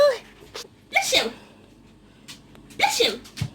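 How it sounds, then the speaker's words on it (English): A pet dog named Pickle sneezes several times in short, sharp bursts. The sneezes are spaced apart and sound close and moderately loud, with quiet room sound between them. "Oh, you sneeze."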